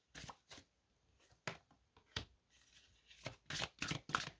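Tarot cards shuffled during a French reading, with irregular crisp riffling bursts and soft slaps, some loud and close, separated by short quiet gaps.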